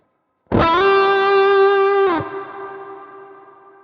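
Electric guitar run through two stacked overdrive pedals with reverb: one loud sustained chord struck, then restruck about a second and a half later, ringing out into a long reverberant tail, no talk.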